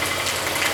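An auto-rickshaw engine approaches, a low, steady mid-pitched putter with a slightly knocking idle quality, heard briefly and fairly close over rain-like background noise.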